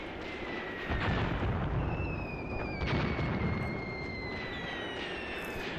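An artillery barrage in the Graviteam Tactics: Mius Front war game: heavy booms rumble at a distance in a steady rolling series, with faint whistling shells overhead and no voices over the continuous low roar.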